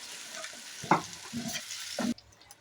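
Spice paste and a little water tipped into a hot frying pan for pomfret fish curry, soft sizzling with a few sharp bursts and scrapes of stirring, then a sudden cutoff.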